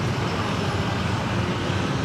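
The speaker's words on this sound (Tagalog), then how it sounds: "Grabe na yung mga traffic na to." Dense road traffic noise in a congested street, a steady broadband rumble of engines and tyres with no distinct single vehicle standing out, loud and constant throughout.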